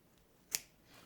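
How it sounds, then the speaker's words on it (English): A pair of scissors makes a single quick, crisp snip through a pipe cleaner loop on a wreath, heard faintly and close up in a quiet room. "just gonna cut right in the middle of the loops, just like that"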